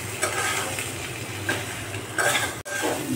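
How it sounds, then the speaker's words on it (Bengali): Pre-fried raw jackfruit being stirred into cooked-down spice masala, a steady close sizzle of frying with repeated scraping stir strokes and a brief clink of a utensil against the pan. "নেড়ে চেড়ে একটু ভাজা ভাজা করতে হবে"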